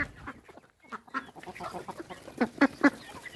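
Aseel hen chicks chirping and peeping in a home backyard flock, several close, sharp calls rising toward the end over a busy rural background, with no speech heard.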